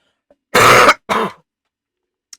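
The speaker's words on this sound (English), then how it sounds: "I'm really sorry about my cough" Two loud, harsh coughs in quick succession, close up, with silence before and after.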